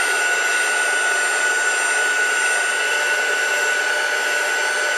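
A hot air dryer blows steadily and loudly while drying handmade lace, a constant close whine and rush of air with no change in pitch and no talking.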